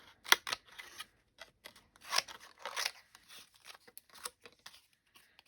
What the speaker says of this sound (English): And then I'm just going to cut this out, leaving a tiny edge, a tiny border.